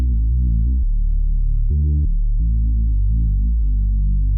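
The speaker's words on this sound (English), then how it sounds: "It's basically just a sine wave," A plain sine-wave bass line for liquid drum and bass plays alone, a smooth, deep tone stepping through root notes in a steady rhythm, with a couple of sliding pitch changes and a brief higher note partway through.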